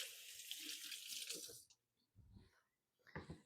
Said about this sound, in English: I'll rinse my hands.